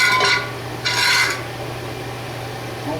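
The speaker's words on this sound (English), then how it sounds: "wire brush it." Wire brushing on Ford F100 brake parts, the truck a 1960 model: two short, harsh scraping strokes close by, separated by a brief pause, over a steady low hum.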